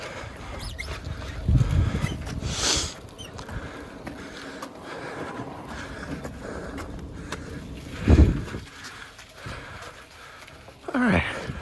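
A Cub Cadet lawn tractor pushed by hand across pavement after a failed spring start-up, with low rolling rumble, occasional scrapes and clunks, a few louder thumps near the start, middle and end.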